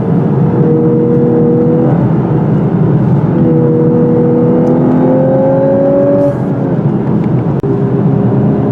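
A 2018 Lexus LC500h hybrid drones steadily while driving, its engine and exhaust tone holding level and rising in pitch in smooth steps, loud and close with no voices.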